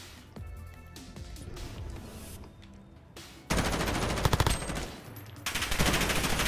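A favorite gun firing in the Modern Warfare alpha video game: dense, loud bursts of rapid gunfire that break in sharply midway, over busy game sound, with no talk.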